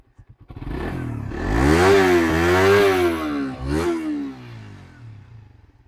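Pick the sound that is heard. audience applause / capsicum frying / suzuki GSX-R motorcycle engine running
suzuki GSX-R motorcycle engine running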